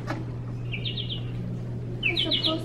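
Electronic bird chirps from a light-up toy's sound button, two short trilling bursts spaced apart over a steady low hum, fairly close.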